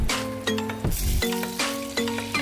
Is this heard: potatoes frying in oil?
yes